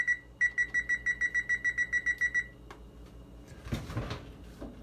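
An oven timer beeps in a quick, even run of about a dozen sharp electronic tones, then falls silent before a rustle and clatter of handling in a home kitchen.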